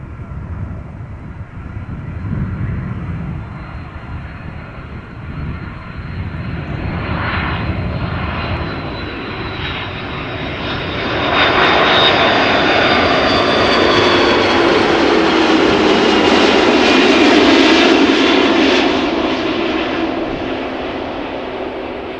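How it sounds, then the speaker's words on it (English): An airliner lands at Amsterdam Schiphol Airport with a steady, loud engine roar that builds and swells toward the end, heard with no talk over it. "from over here that certainly looks like a buttery landing"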